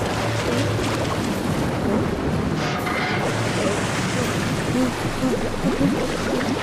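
Rough, churning sea noise with gusting wind and sloshing waves, a constant blustery wash with no clear speech.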